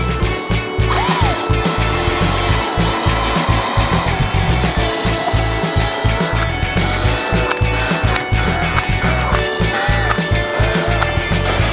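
A drill fitted with a 2.5 mm bit bores a taped, depth-limited hole into an acrylic sheet, giving a loud, steady whir with rapid rhythmic pulsing throughout and no talk.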